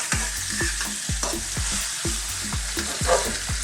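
Pork chops sizzle steadily in a pan while being stirred, with a regular run of scraping, clattering utensil strokes over a constant bright fizz, close and fairly loud throughout with no talking.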